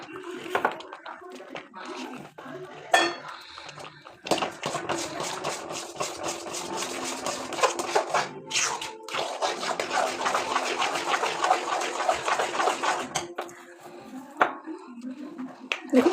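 Cooking in a pan as date palm jaggery is stirred in, with scraping utensil clatter and a steady sizzling hiss, close up and moderately loud, brief knocks at the start and end.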